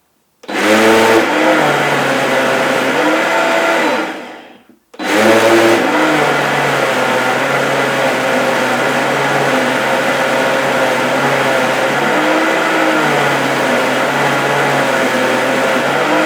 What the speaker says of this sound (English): if you just stop it and start it again, they'll get chomped by the initial pulse